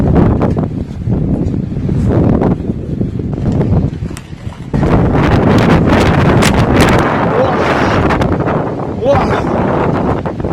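Strong typhoon wind blasts steadily and loudly with rushing gusts that swell and ease, while people speak under the roar.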